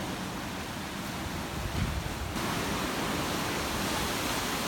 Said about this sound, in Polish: Niezłe fale dzisiaj są.